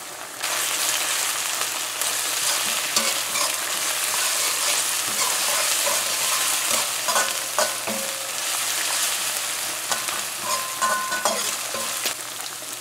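Ground garlic and pepper frying in a pan for a spaghetti and meatballs sauce, a steady, close, continuous sizzle with faint stirring scrapes and no talk.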